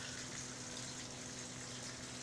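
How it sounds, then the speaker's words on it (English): Water draining from a barley fodder system through an old garden hose into a sink, a steady continuous rushing trickle with a low hum underneath, close and even throughout. "comes out through this piece of old garden hose into the sink, automatically drains down the plug and away it goes"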